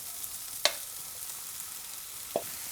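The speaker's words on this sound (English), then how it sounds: "now we're going to add in our aubergine" Cut aubergine cooks in a curry pan with a soft, steady sizzle and frying crackle, broken by two small sharp clicks of stirring, quiet and close without any talk.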